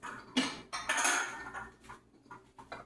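Ceramic bowls clink and knock against each other and a countertop while being pulled out in a home kitchen, several sharp close clatters over about three seconds with no voices.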